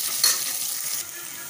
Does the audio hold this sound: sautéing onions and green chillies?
yes